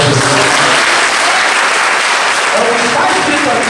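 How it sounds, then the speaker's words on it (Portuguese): Church congregation breaks into loud, dense applause for Jesus during a Portuguese-language sermon, with sustained clapping filling the space and a few cheering voices mixed in. "Uma salva de palmas para Jesus."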